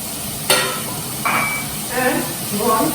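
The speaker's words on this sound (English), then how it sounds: "Now once the oil is heated, you just throw everything in" Chopped vegetables for hot and sour soup hit hot oil with a sharp burst of sizzling, followed by several scraping stirs of a utensil against the pan under a constant close crackle.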